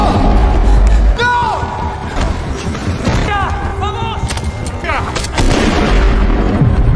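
A police shooting in a horror film set in a train tunnel: loud, booming gunfire and thuds mixed with shouting voices and tense dramatic sound, continuous and dense across the scene.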